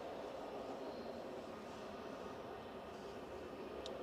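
An Airbus A320neo jet departs Manchester Airport, its broad, steady engine roar heard from a distance, faint but continuous, with no voices over it.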